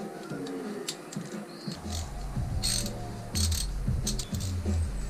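An 8mm socket wrench with an extension undoing bolts on a Suzuki GS250FW motorcycle during restoration, giving close, repeated bursts of ratcheting clicks with short pauses between them.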